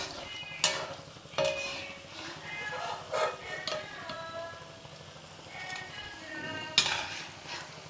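Unniyappam batter fries in oil in a pan over a low flame, a soft sizzle under irregular clinks and scrapes of a utensil stirring and turning, with a voice talking at moments.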